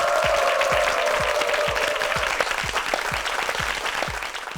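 Studio audience applause on a Korean TV quiz show, continuous clapping that fades slightly toward the end, with rhythmic low thumps beating underneath.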